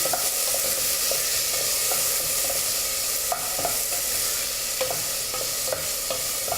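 Sweet peppers and sweet peas sauté in a pan with fennel, giving a steady, loud sizzle throughout. Light clicks of stirring sound close by.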